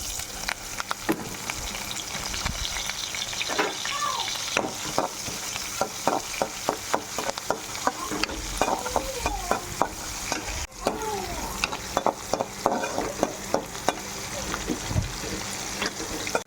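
Onions and curry leaves fry in a pan for bitter gourd curry, a constant close sizzle broken by repeated scraping strokes of a spoon stirring, with a voice talking intermittently over it.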